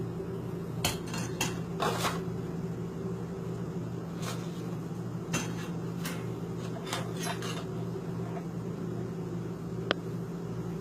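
A small plate and butter being taken out in a home kitchen, with scattered sharp clatters of dishes and cutlery over a steady low background hum, close by and irregular.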